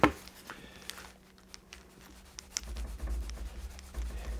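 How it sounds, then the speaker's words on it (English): Fine grain sandpaper rubs against a small Mini-Z part, soft close scratchy strokes in an irregular rhythm with a low rumble of handling underneath. "you should always be using a finer grain sandpaper, just to smooth the surface out a bit"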